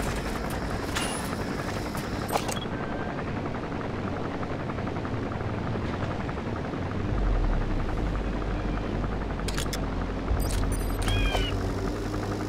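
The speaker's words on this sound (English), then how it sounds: "Looks like the arms dealer's chopper is gonna patrol for the security forces" Helicopter belonging to an arms dealer flying patrol in the Metal Gear Solid V video game, a continuous loud rotor drone with steady chopping that holds throughout, with faint higher chirps over it.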